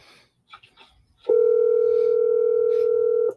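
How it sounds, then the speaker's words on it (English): A single long, steady telephone ring tone sounds for about two seconds after a few faint clicks and rustles. "Can you hear the ringing?"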